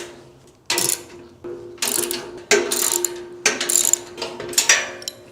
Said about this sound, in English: Now we're gonna tighten these 3 bolts. You need a 14 millimeter and 17.